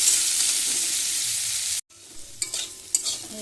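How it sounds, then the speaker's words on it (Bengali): Onions sizzle loudly in hot oil with a steady hiss, then after a brief pause the sizzling continues more softly with occasional stirring scrapes. "লবণটা দিলে তাড়াতাড়ি ভাজা হয়ে যাবে পেঁয়াজটা ভেজে নিই"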